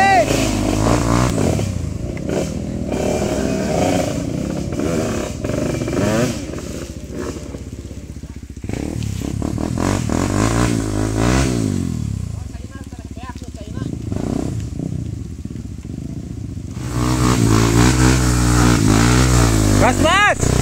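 A motorcycle engine on a rural road revs repeatedly, rising and falling close by. People talk over it, and it ends with a loud burst of throttle.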